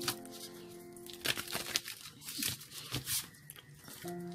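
Cards shuffled for a tarot-style reading, crisp riffles and crinkly paper snaps coming in quick irregular bursts, close and fairly quiet.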